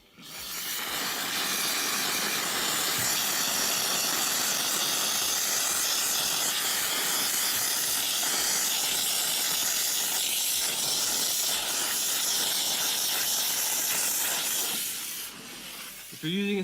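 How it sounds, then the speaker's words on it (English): A steam cleaner hisses steadily and loudly on a car interior for about fifteen seconds, a continuous close rushing sound with faint scrubbing textures, then it stops. "Let's try a little bit of steam"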